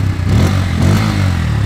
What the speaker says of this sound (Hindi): काफ़ी बेसिक सा एग्जॉस्ट नोट आपको पल्सर इन 160 में आपको मिलता है।